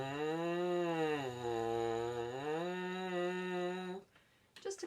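A French horn mouthpiece buzzes alone in a low register, sliding down and back up in a short siren-like sweep before cutting off.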